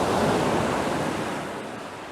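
Ocean surf crashes against coastal rocks, a loud broadband wash that swells at the start and then slowly subsides, with wind rumble and no speech.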